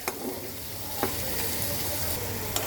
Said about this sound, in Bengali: আমি এখন মশলাটাকে কষিয়ে নেব মিনিমাম তিন থেকে চার মিনিট